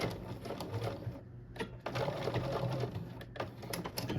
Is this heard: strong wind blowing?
no